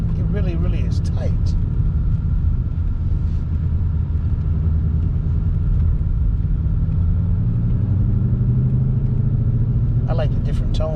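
A 2020 Ford Mustang Shelby GT500 engine rumbles steadily while driving, a deep low drone that shifts pitch partway through, with people talking over it inside the car.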